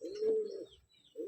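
Pigeons coo in soft, low, rounded calls close by, one long coo followed by a short pause and another starting, with faint chirps in the background.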